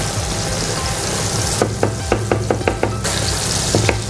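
Finely chopped garlic sautéing in a pan of butter and oil, with a close, steady sizzle broken by a series of quick, sharp spatula taps and scrapes in the middle.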